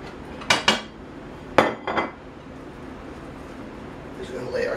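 A metal scraper scrapes cooked bits off a pan for braciole, giving three or four sharp, close scrapes and clinks spread over a few seconds, with quiet room sound between and faint activity at the end.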